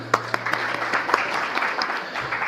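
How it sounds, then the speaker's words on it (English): Audience applause at a business summit, a crowd clapping in a sustained wash with occasional louder single claps near the front, alone with no speech. "please give yourselves a round of applause"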